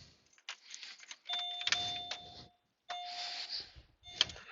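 A car's warning chime rings after the key is turned on, a series of clear electronic dings, mostly steady with short gaps and some clicks and rustling nearby.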